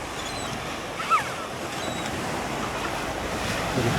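Sea surf washes steadily onto an Italian beach on a Sunday morning, a continuous soft roar of waves with some wind noise on the microphone and no talking.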